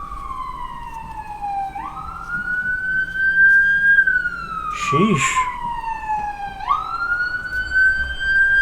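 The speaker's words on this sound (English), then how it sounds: "It's an ambulance coming up my street." An ambulance siren passes up a residential street behind a house. It is loud and close, with a rising and falling wail that sweeps over traffic rumble, and a person briefly exclaims partway through.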